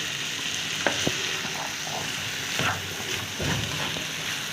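Potatoes frying with onion and chopped chillies in a pan over a raised flame, a steady close sizzle with a few stirring scrapes and clinks, no talking.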